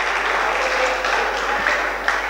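An audience at a Hindi poetry gathering applauds in memory of Madan Mohan Malaviya, a loud, continuous, even roar of clapping from a large crowd filling the whole moment.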